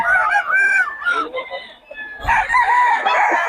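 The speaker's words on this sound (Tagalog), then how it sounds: "Puro solid na mga manok ng Boss Tony ngayon, mga idol." Roosters at a gamefowl market in Bocaue crow loudly and close, one long call following another with overlapping crows throughout.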